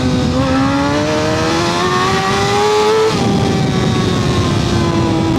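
A Suzuki GSX-R 1000 motorcycle engine revs loud and close, its tone climbing steadily, dropping back briefly, then holding a high, strained howl with no talking.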